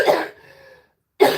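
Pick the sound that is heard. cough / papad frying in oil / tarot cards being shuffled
cough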